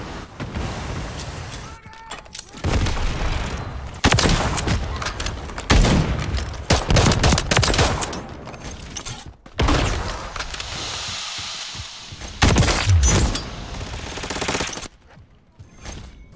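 Gunfire in Call of Duty Black Ops 6 Zombies on the Liberty Falls map, with loud repeated bursts of automatic shots separated by brief pauses and mechanical clatter, with players talking faintly underneath.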